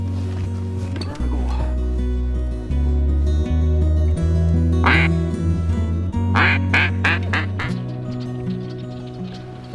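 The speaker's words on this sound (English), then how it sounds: "Seen a couple of ducks already, and we're waiting to see if there are any birds moving today, and Abby's excited for it." Ducks quack in short bursts at Horicon Marsh, Wisconsin, several calls clustered together, nearby, with a low droning background sound underneath.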